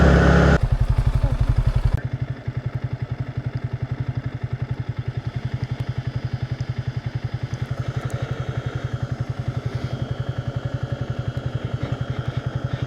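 A motorcycle labours up a rough mountain track, its engine chugging in a fast, steady rhythm close by. Loose clatter and thuds sound over the running motor, with no voices.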